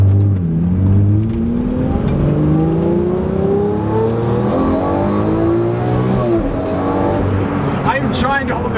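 Lamborghini Aventador LP640 V12 engine accelerating hard near the camera, its pitch climbing in long sweeps with a gear change around the middle and another rise after, a loud continuous roar with some talk underneath.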